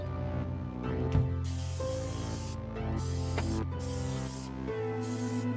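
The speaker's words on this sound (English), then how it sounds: "at least spray the bottom of your shoes with a disinfectant or bleach water" Disinfectant is sprayed onto the soles of shoes as a coronavirus decontamination step, heard as several hissing bursts separated by short gaps over soft background music.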